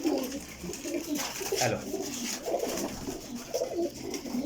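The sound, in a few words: pigeons cooing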